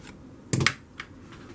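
Scissors make a small slit in a paper lily petal: a quick, close double snip followed by a fainter single click, set against quiet room noise.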